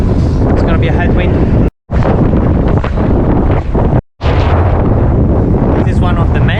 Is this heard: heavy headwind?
yes